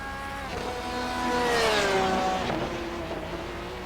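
A sports car in a racing video game slows as it enters the pits at Okayama, its engine tone falling in pitch beneath steady, moderately loud motor noise with no speech.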